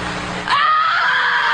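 A woman's loud, high scream plays back from a recording, starting after a brief moment of background and holding sustained and intense to the end.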